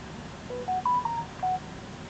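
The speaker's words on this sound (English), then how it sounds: "Sorry if you guys are hearing that notification, that's just my phone blowing up like crazy." A phone plays a quick run of four or five short, clear electronic notification tones at different pitches, sitting over a steady low hiss with no talking.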